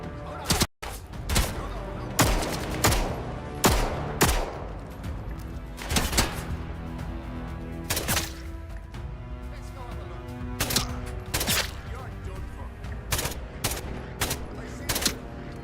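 Video game gunfire comes in repeated sharp, loud shots and short bursts, spaced irregularly and fired close, with quieter game sounds filling the gaps between them.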